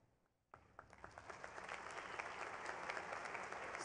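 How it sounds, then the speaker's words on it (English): Applause from a college commencement audience for the graduating business and economics students begins abruptly after a short quiet moment, then builds into sustained, dense clapping. "I ask the audience to please recognize them for their achievements with their applause."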